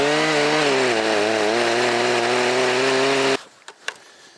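A powered pole saw cuts through a tree limb near the trunk with a loud, buzzing chainsaw-like whine whose pitch wavers slightly. It stops abruptly, and a couple of faint knocks follow.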